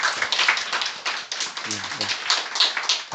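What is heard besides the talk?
congregation applauding to welcome newcomers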